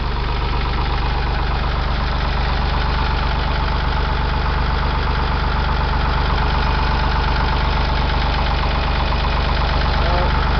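Ford 335 industrial tractor engine idling steadily up close after a cold start, a constant low chugging rumble with a faint knocking rhythm, unchanging throughout.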